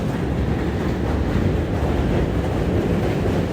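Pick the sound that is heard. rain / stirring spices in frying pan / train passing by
train passing by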